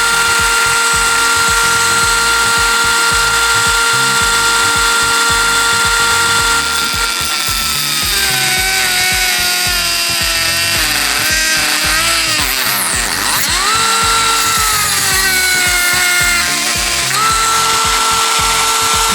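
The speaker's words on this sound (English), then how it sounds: "it worked best when I turned the Dremel up as fast as it would go" Dremel rotary tool at full speed cutting through material, a loud, steady high whine with rattling that wavers and bends in pitch as the cut loads the tool, with no talk over it.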